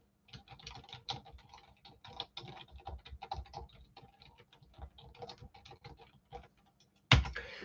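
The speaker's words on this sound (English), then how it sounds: "Make sure you're using the hashtag, and I'll type it in here" Fingers type steadily on a computer keyboard, rapid close clicking keystrokes in uneven bursts, ending with a louder thump.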